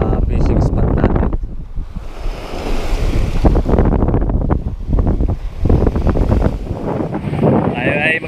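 Strong northeast monsoon wind buffets the microphone at a seaside fishing spot, a loud continuous roar blended with crashing surf, with a person talking over it at times.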